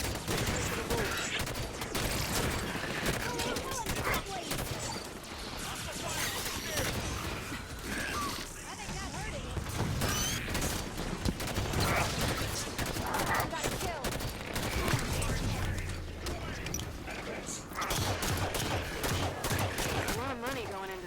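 Turret gunfire from Halo Wars 2 rattles in dense, rapid bursts that run almost nonstop, loud and close, with battle noise and faint voices mixed underneath.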